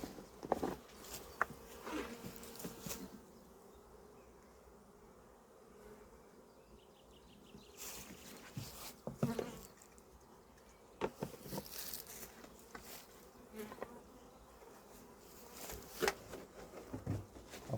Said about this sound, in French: Les abeilles qui sont dessus sont principalement des nourrices.